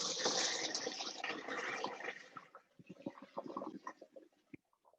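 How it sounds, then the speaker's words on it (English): Hot pasta water poured from a pot into a kitchen sink to drain, a loud rushing splash that breaks into quieter gurgles and drips as the flow ends. "especially if you're pouring into a sink"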